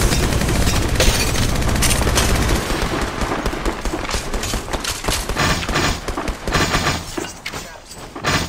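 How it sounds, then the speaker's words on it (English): Rapid gunfire from Apex Legends Mobile, a battle royale shooter game, with bursts of automatic fire that stay loud and dense throughout, mixed with other game effects. "Then I shoot."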